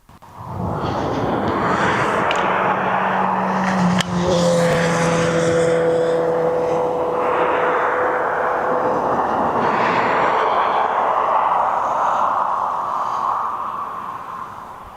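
Jet aircraft taxiing at East Midlands Airport, a loud sustained engine roar and whine with rising tonal pitches, steady for the whole stretch before easing slightly at the end.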